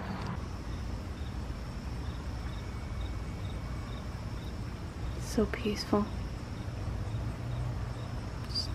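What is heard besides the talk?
crickets chirping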